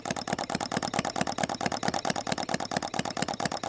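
Pioneer concept engine running steadily while warming up, a fast, even chugging pulse of firing strokes repeating without pause, close and fairly loud with no voices.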